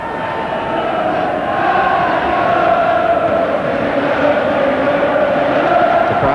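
A big stadium crowd at a 1994 World Cup qualifier, England against Norway, roars and chants in a sustained, swelling wash of voices, loud and continuous, building slightly after the first second.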